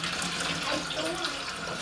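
Tap water gushes steadily into a home-brewing pot during an ale brew day, a close, continuous splashing rush with no pauses.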